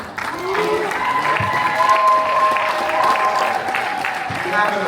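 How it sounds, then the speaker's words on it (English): Audience applause for His Royal Highness at the MIPAD100 award ceremony held in the U.S. Congress. Sustained clapping and crowd noise continue throughout, with voices talking over it. "Let's give His Royal Highness a big round of applause."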